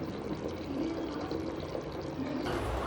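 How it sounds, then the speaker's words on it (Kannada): Steady watery pouring and bubbling as rice is added to boiling water for chicken biryani, close and continuous, with a brief louder splash near the end. "ಕುದೀತಾ ಇದೆ. ಅಕ್ಕಿ ಕೂಡ ಹಾಕಿ"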